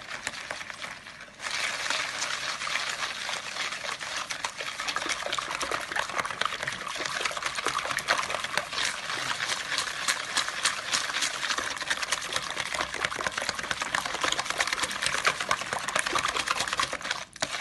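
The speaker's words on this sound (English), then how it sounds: "So the sugar goes in, we give it a good old whisk" Caster sugar being whisked steadily in a bowl to dissolve it for muffin batter, a continuous fast scraping and swishing rattle that runs close and loud without pause.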